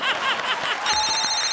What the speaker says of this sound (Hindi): एक मिनट फोन आ गया अपन को।